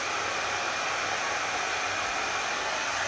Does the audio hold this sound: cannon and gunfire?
no